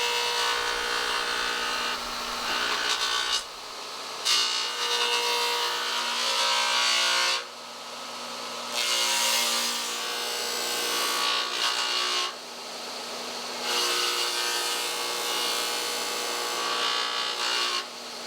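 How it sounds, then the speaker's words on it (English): A radial arm saw fitted with a 12-inch dado blade cuts into a log for a stairway handrail, several loud rasping passes of blade on wood separated by short pauses. "We're making this cut with a radial arm saw with a 12-inch dado blade in it"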